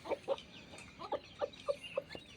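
A flock of chickens, hens with a rooster, kept by a breeder of a home-developed breed, clucking in a steady string of about eight short, sharp calls at moderate distance, with no voices.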